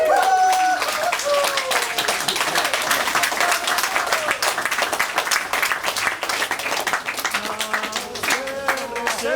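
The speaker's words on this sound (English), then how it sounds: "We sit down, we clap, we chant, saying, thank you very much for watching us." Seated Fijian performers clap in a brisk, even rhythm while chanting together at the end of a performance, voices rising over the steady hand claps throughout.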